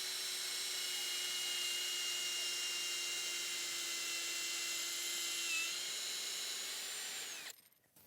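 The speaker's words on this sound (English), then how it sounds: "we're gonna put our drill in just a little bit upwards and drill in about" A power drill whines steadily as it bores a tap hole into a maple tree outdoors, a sustained high motor tone that holds for several seconds before winding down.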